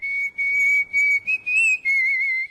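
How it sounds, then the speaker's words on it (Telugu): A person whistles a bright, sustained tune in short phrases with brief pauses, close and loud, with no talking. "ఏ విజిల్ అంత బాగుందా?"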